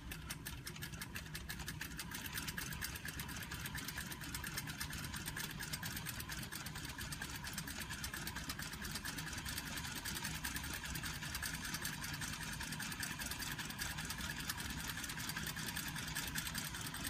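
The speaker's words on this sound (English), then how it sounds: "Still backstitch." Sewing machine backstitching a seam for a Hong Kong finish, a steady rapid mechanical whirr and needle clatter running continuously at fairly low volume, with no talking.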